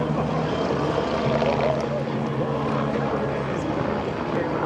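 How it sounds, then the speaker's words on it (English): Aerobatic helicopter performing at the EAA AirVenture air show, a steady loud rotor and engine drone heard at a distance, continuous throughout with a faint murmur of crowd or talk beneath. "Aaron Fitzgerald comes in a helicopter"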